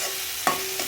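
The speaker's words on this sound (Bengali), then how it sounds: "লঙ্কার গুঁড়োটা দিয়ে এর মধ্যে ভালো করে নাড়াচাড়া করতে হবে" Chili powder being stirred into spices frying in a pan gives a steady close sizzle with a single scrape of the spoon partway through.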